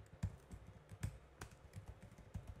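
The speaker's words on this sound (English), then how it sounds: "you could go in here and type in" Soft, quiet clicks of someone typing on a computer keyboard, a short irregular run of keystrokes with a few sharper taps and no talking.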